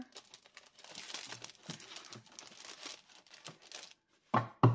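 Paper pages being slid back into plastic sleeves, with soft crinkling and rustling of plastic in bursts, close and quiet, ending with two louder sharp crackles.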